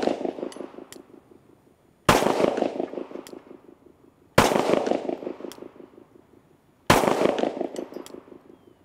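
Pistol shots fired at a target on a shooting range: three loud, sharp reports spaced about two seconds apart, each with a long ringing decay, over a faint steady background hum.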